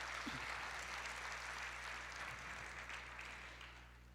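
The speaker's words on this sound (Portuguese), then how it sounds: "Vamos aplaudir ao Senhor." A church congregation claps in praise to the Lord during a worship service, a wash of many hands at moderate distance that slowly fades toward the end, over a low steady hum.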